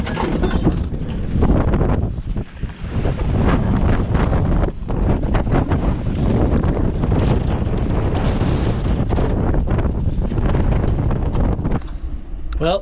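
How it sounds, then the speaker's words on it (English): Strong wind roars over the microphone aboard a small sailboat at sea in a building storm system, with water and hull noise underneath, loud and continuous throughout. "The wind's really picking up."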